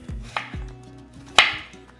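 A knife coring an apple, giving a few sharp cutting clicks and thuds at irregular intervals, close and distinct, with low knocks of the blade against the fruit and no talk.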